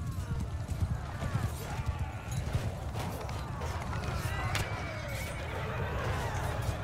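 Cavalry horses charge in a video game, their hooves clip-clopping in a dense, continuous gallop with a whinny in the mix, while someone speaks over the battle.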